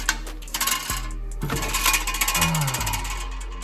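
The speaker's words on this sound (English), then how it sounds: "Now, let's remove this flywheel." A flywheel comes off a Ford Mustang during a clutch upgrade. Close metallic clinks, scrapes and knocks sound over a low steady hum, with a brief sliding rub near the end.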